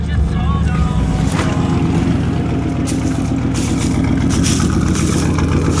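Engine of a 1995 Trans Am convertible running steadily with a deep, continuous idle rumble, loud and close.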